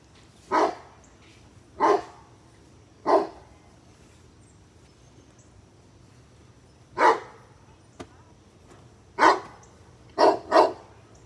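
A dog barks seven times at irregular intervals, fairly close by during a beehive inspection, with a quick double bark near the end and quiet between barks.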